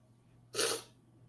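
A single sneeze, close and fairly loud, bursting out briefly over a low steady hum in a quiet room at a quilting event.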